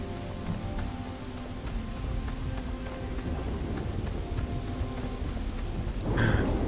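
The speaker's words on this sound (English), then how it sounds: "That storm is coming in." Steady rain patters continuously in the Starfield video game as an approaching storm builds, with low distant thunder rumbling beneath and a louder swell of rain near the end, no voices.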